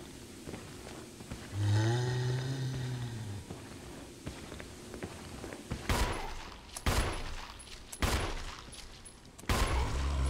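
Zombies in the Resident Evil HD Remake video game let out a low, drawn-out moaning groan, followed by several sharp, loud gunshots spaced a second or so apart.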